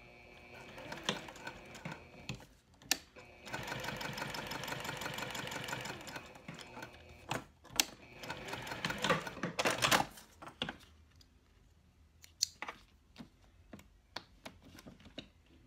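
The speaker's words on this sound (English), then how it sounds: "now to finish off my top stitching, I'm just going to stitch across this top layer or top edge" A sewing machine runs top stitching along the edge of a cork wallet in steady mechanical bursts, with clicks and pauses between runs and quieter handling noises toward the end.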